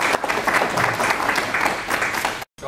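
An audience at a ceremony where grant contracts are signed breaks into a burst of applause, steady and full from many hands, then cutting off abruptly near the end.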